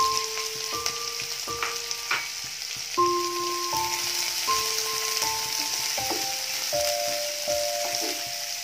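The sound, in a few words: onions frying in a pan with garlic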